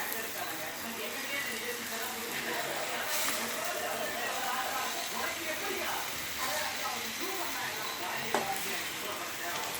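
Prawns being mixed into fried masala in a pan, with a continuous sizzle and hiss and occasional stirring scrapes, steady and close, while someone talks over it.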